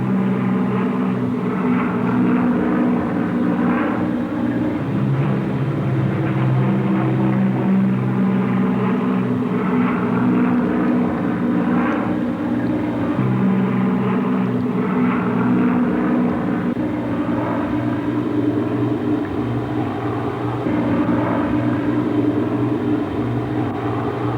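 Bomber aircraft taking off from a WWII airfield runway at sunrise, a steady, loud propeller-engine drone that holds evenly throughout with no voices.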